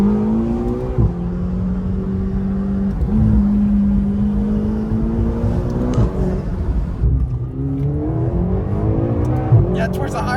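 A 2025 McLaren GTS engine revs and climbs through higher RPM in repeated rising pulls, loud and close from inside the car, with tire noise and a voice talking over it.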